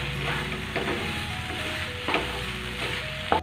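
Steady sizzling in a frying pan with repeated scraping strokes of a spoon stirring thick carrot halwa, close by, no talking.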